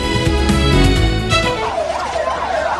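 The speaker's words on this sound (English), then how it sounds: "Ambulance sirens wailed continuously through the Rimal neighborhood of western Gaza City" Ambulance sirens wail continuously through the Rimal neighborhood of western Gaza City, loud and close, a dense blaring tone first, then a clear rising-and-falling wail repeating steadily.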